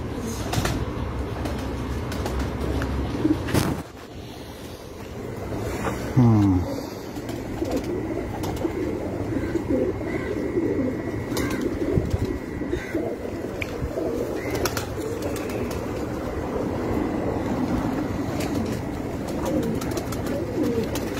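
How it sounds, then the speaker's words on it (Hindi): Pigeons coo in a rooftop loft, with repeated soft, throaty calls close by over a steady background murmur, and a brief flutter partway through. "ये भी बहुत अच्छा कबूतर है मेरा मिस्सा"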